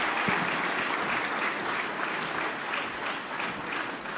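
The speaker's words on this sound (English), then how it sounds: "Big round of applause" An audience at the Grand National Turkey Calling Championship senior finals claps steadily, a dense, even patter of applause from a moderately distant crowd, heard alone.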